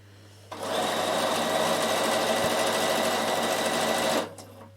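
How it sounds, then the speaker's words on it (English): A Bernina sewing machine stitches a raw edge on a knit top, a fast, even whirring run that starts abruptly, holds steady and stops sharply, close and alone. "I might as well just stitch it while I'm here."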